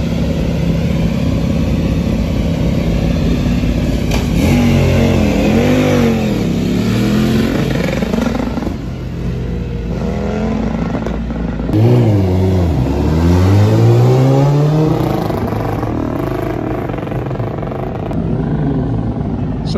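Race cars and Ducati Cup machines rev and accelerate past on a circuit during a British Superbike track test, loud engine notes rising and falling as several pass by close with repeated sweeping pitch changes.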